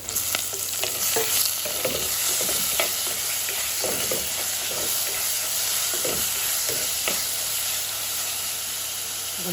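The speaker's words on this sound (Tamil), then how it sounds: "வதங்கிறதுக்கு தக்காளி எல்லாம் வதங்கிறது" Tomatoes sauté with onions and curry leaves in a hot pan, giving a loud, continuous sizzle and hiss with repeated stirring scrapes throughout, and no voices.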